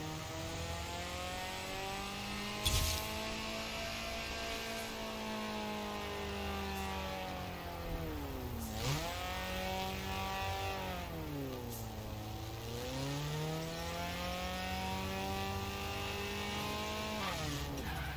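A car engine in Forza Horizon 4 revs steadily at high pitch, swooping down and back up twice as it shifts, loud and continuous throughout with a brief sharp click early on and no talk.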